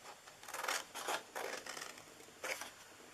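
Scissors snip through paper for a gift card treat box in a quiet room, with about five short, crisp cutting strokes in an uneven rhythm, close and soft.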